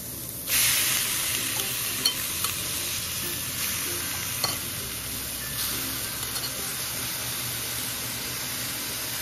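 Pork sautéing with garlic and onion in a pan for Filipino menudo, a sudden burst of hiss as the meat hits the oil, then a steady sizzle with occasional stirring knocks, fairly soft overall.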